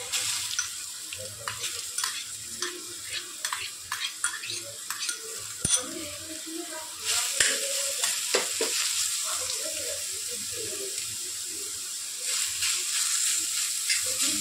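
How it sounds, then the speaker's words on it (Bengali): Grated bottle gourd fries in hot ghee with a steady close sizzle, broken by sharp scrapes and clicks of a spatula stirring the pan, alone with no talk. "ঘিটা একটু গরম হয়ে গেলে ঘি দিয়ে আমি লাউটা ভাজবো।"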